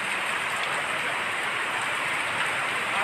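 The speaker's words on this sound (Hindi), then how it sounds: "बारिश हो रही है" Heavy rain pours down in Korangi, Karachi, near a seminary as a steady, dense, even hiss of drops on surfaces, loud and close throughout, with no voices.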